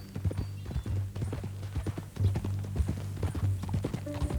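Horse hooves clip-clop steadily in the Western video game Red Dead Redemption II, a brisk walking rhythm of close, crisp thuds over a low background hum.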